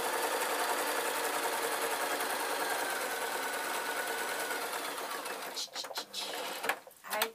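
A sewing machine runs steadily while stitching a proper waistcoat, a fast even whirr for several seconds that then breaks into short stop-start bursts.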